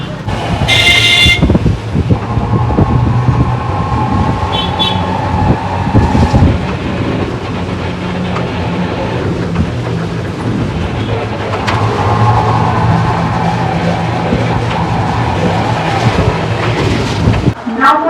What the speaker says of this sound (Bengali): প্ল্যাটফর্মে আসছে প্রথম আলিশে প্যাসেঞ্জার ট্রেন নম্বর 314278 শিয়ালদা